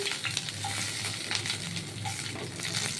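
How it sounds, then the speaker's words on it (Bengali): Chilies frying in a pan for pumpkin leaf bharta, a continuous close sizzle broken by scraping stirs of a spatula, with no talking. "এর মধ্যে আমি লঙ্কাগুলো দিয়ে দিচ্ছি"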